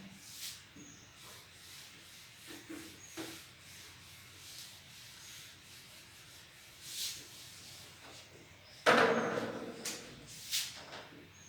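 A board being erased by rubbing: soft, scratchy friction strokes come and go faintly, ending in a louder, brisker rub near the end.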